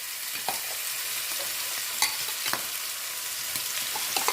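Golden onions frying in a pan for Senegalese mbakhal, a steady close sizzle with scattered light stirring clicks and scrapes.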